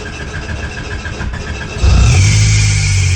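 A Honda Civic fitted with a freshly welded exhaust starts up: a faint whine gives way to the engine catching, then a loud, steady, deep idle rumble that continues close by.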